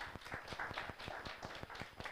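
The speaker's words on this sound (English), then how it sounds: "They deserve that round of applause and more." Applause for the organizers at the closing ceremony of a green innovation summit in Dominica: a fairly faint, steady run of hand claps with a regular rhythm, heard alone without talk.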